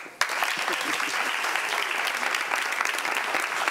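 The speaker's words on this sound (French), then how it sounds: "On l'applaudit." Audience applause at a French-language talk show, starting abruptly and holding as a dense, even wash of clapping from a sizeable crowd for the whole stretch.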